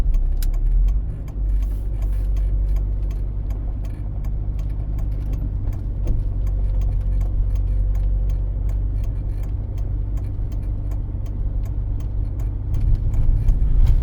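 A car on a driving-exam route hums steadily from inside the cabin, its engine a continuous low drone with a slight change in pitch as it shifts into second gear; faint clicking sits above the rumble.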